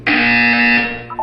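A loud, steady electronic buzzer in the Portal 2 video game sounds alone, one sustained harsh tone lasting about a second before cutting off.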